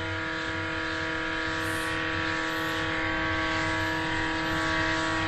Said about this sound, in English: you've not got a lot of PSI there with this little compressor on it